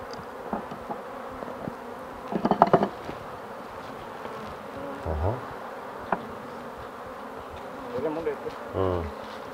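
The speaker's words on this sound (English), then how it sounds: "I'm trying to converge the bees in one place so that I can lift them and put them in what? Into this." Honeybees buzz around a Kenyan top-bar hive during colony division, a low steady drone that stays close, with brief louder bursts as bees fly past and occasional speech mixed in.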